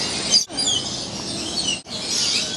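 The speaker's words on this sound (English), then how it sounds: "there's all these tropical birds that are flying around us." Tropical birds fly about inside a fully covered bird atrium, their high chirps and tweets scattered through a steady, airy background hiss with no talk.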